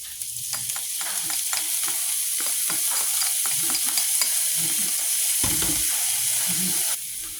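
Finely chopped carrots and chives sauté in a hot pan, a steady close sizzle broken by frequent scraping stirs of a spatula, with no talking.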